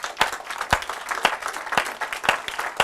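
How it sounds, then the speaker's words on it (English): Applause from an audience after a panel discussion on the opioid crisis, a modest crowd clapping steadily with several loud, close single claps punctuating the continuous patter. "Let's give one more round of applause to our panel members."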